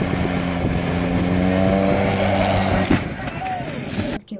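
Helicopter game audio: a steady engine and rotor drone with humming tonal bands and a high whine holds for about four seconds, then drops abruptly toward near silence.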